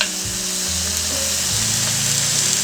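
Red beans go into a pan of sizzling meat, vegetables and mushrooms, with a steady, close frying hiss continuing throughout without any speech.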